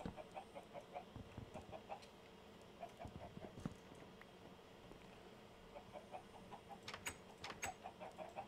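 Chickens cluck in the Minecraft video game, short repeated clucks at a moderate, steady level with a few sharper clicks, no talking.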